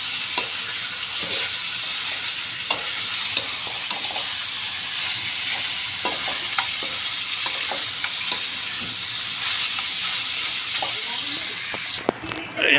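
Pork belly nilaga stew boiling in a pot, a steady close bubbling hiss with scattered soft pops and clinks throughout, no one talking.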